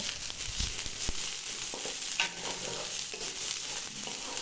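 Chopped coriander leaves and pointed gourd peels fry in a pan with a soft, steady sizzle, along with occasional light knocks and scrapes of stirring. No voice is heard.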